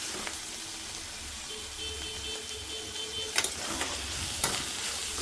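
Mixed vegetables sizzling steadily in hot oil for a Telangana-style jonna vadappa, with a few scraping stirs of a spoon against the pan near the end.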